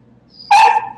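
A puppy lets out one short, high yip-like bark with a whimpering edge, close and loud, after a faint quiet lead-in.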